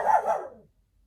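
A guard dog gives a single sharp bark, followed by a short second yelp, close and fairly loud indoors, then silence.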